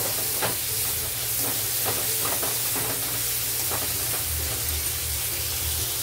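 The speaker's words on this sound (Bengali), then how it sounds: "টমেটোটা অ্যাড করে একটু নাড়াচাড়া করবো" Tomato pieces sizzle in hot oil in a pan while a jackfruit and coconut curry is cooked, with steady frying hiss and scattered scraping clicks from stirring, close and continuous.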